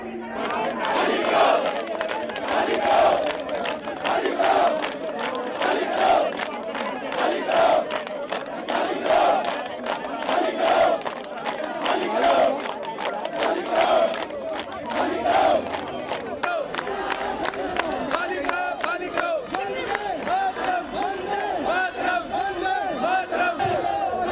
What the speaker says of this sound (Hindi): सिंघू बॉर्डर खाली करो की नारेबाजी हो रही थी